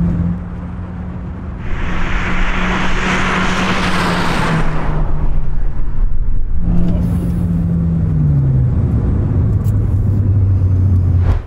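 A Mercedes A200 1.3 TCe and an Audi A3 35TFSI launch side by side in a drag race, engines humming, then a sharp roaring burst of acceleration that fades, followed by another engine revving up and pulling away.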